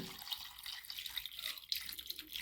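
Hot water pours into a mixer jar holding chopped coconut, a soft, faint, steady trickle and splash heard close with no voices.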